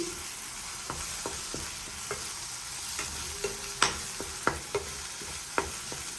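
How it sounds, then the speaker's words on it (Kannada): Ginger garlic paste frying in a pan for spicy hotel-style egg curry, stirred with a spoon: steady close sizzle under a series of sharp scraping clinks against the pan, no talking. "ಆ್ಯಡ್ ಮಾಡಿಕೊಂಡು ಈ ಥರ ಚೆನ್ನಾಗಿ ತಿರುಗಿಸ್ಕೊಳ್ಳಿ"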